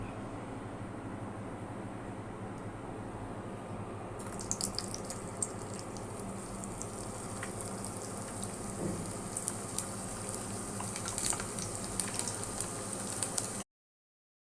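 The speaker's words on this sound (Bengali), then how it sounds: "এক এক করে সব দিয়ে ভেজে নেব" Chicken balls dropped into hot oil fry with a continuous bubbling hiss that grows brighter and fuller partway through, then holds steady until it cuts off abruptly, with no talking.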